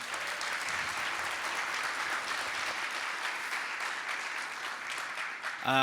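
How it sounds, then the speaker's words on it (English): Sustained audience applause at a panel event on Toronto hosting the 2026 FIFA World Cup, dense and steady throughout, ending with a brief voice at the very end. "A round of applause, please, for Sharon."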